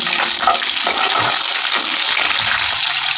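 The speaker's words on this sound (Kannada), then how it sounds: "ಮೆಣಸಿನ್ಕಾಯಿ ಸ್ವಲ್ಪ ಚಟಾಪಟ ಅಂದಮೇಲೆ ಫ್ರೈ ಮಾಡ್ಕೊಂಡ್ಮೇಲೆ" Green chillies fry in hot oil for idli upma, giving a loud, steady, dense sizzle with continuous crackling and spitting throughout.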